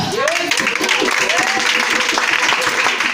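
A church congregation at a Mission Mondiale service claps and cheers in a dense, steady wash of applause, with voices mixed in throughout.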